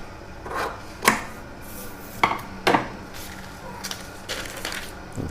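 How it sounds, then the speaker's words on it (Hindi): Scissors snipping off the extra margin of blouse fabric while cutting a 42-inch katori blouse, heard as a few sharp, separate crisp snips and rustles at close range with quiet gaps between them. "अब जो ये एक्स्ट्रा मार्जिन है उसको हम काट लेते हैं।"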